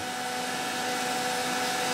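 A heat gun blows with a steady, loud electric roar and constant hum, running without pause, close to the listener.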